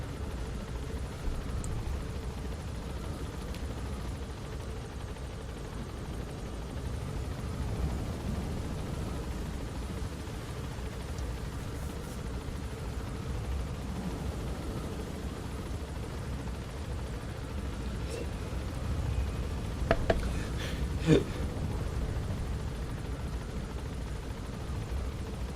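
A helicopter flies in the video game Metal Gear Solid 5, a steady broadband rotor and engine rumble throughout, dense and unbroken, with a few faint brief clicks near the end.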